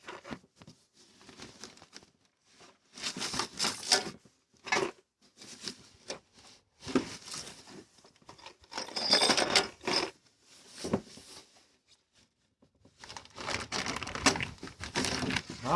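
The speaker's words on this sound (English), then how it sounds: "That sounds like nuts and bolts." Loose metal nuts and bolts for a Woodland Mills HM122 sawmill rattle and clatter inside a shipping package, in irregular bursts of jingling, crinkling bursts that come and go, fairly close, with no talking.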